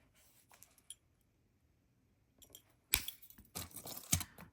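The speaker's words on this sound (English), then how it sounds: "I'm going to cut off my wire, my excess wire" Memory wire is snipped with cutters, giving a few faint clicks followed by a sharper, louder cluster of metallic snips and small clinks close by, separated by quiet pauses.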